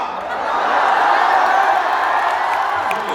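Audience at a kavi sammelan (Hindi poetry recital) breaks into loud, sustained applause mixed with cheering and whoops, a dense steady crowd roar lasting the full stretch with no speech over it.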